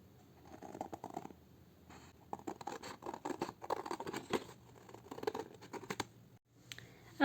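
Scissors trimming paper for a handmade journal, heard close up as quiet, irregular bursts of snipping and paper rustling with short pauses between cuts.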